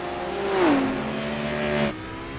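From the cockpit of a touring car in the iRacing sim at Lime Rock Park, the engine drones steadily, its pitch dropping through a gear change and then easing off as the revs fall near the end.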